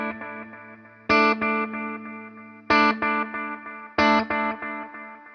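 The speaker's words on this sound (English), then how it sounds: "let you hear the extent of what 300 milliseconds sounds like" Guitar notes through an EarthQuaker Devices Disaster Transport SR delay pedal set to a 300-millisecond delay time: three loud plucked chords, each followed by quick, evenly spaced decaying repeats.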